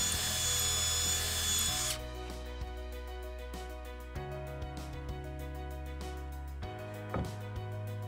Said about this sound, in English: I then mark and drill holes through the back panel